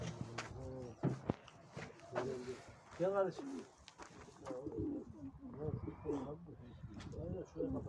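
Turkish tumbler pigeons coo close by in a large coop in soft repeated bursts, with occasional light rustling and faint voices in the background.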